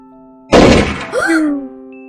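A single loud gunshot in the game Night Shift as a man shoots himself, one sharp blast out of near silence followed by a short ringing decay, with a faint voice sound trailing after.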